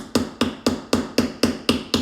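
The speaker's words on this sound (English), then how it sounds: "We kind of got a little hammer." A small hammer taps little nails into a board for string art. Eight sharp, evenly spaced strikes sound up close, with no talking.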